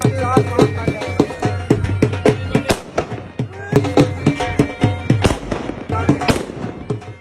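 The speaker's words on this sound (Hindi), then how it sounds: "अब बारी आ गई थी आतिशबाजी की।" Fireworks and firecrackers at a wedding in Pakistan explode in rapid irregular bursts, loud and close, with crackling pops overlapping and faint voices underneath.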